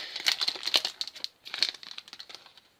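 Yu-Gi-Oh! booster pack wrapper opened by hand, a close, crisp run of crinkling foil bursts with short pauses, ending in quieter rustles.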